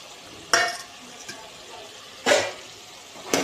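Chickpea curry being stirred in a pan after spice powders such as fenugreek and coriander go in: scraping, sizzling strokes come at intervals over a soft, steady simmer.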